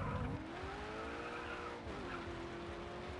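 Tires squealing as a car skids through a turn in the Grid 2 racing game, a sustained pitched screech over loud continuous engine roar, close and steady for a few seconds.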